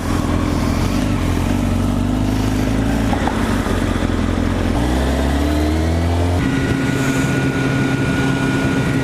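A Kawasaki ZX-10R motorcycle cruising on a ride, its engine droning loudly and steadily up close with wind rush, the pitch shifting as the rider changes speed.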